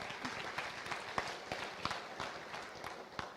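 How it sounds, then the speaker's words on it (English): Audience at a state FFA awards ceremony applauds contestants, a steady crowd clapping with a few sharper individual claps standing out, moderately distant and continuous throughout. "we'll have, a round of applause for them."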